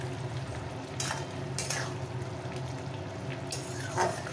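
A spatula stirs a dry-cooking drumstick and potato curry in a pan, faint scraping strokes and a soft steady sizzle, with a few louder scrapes spaced a second or so apart.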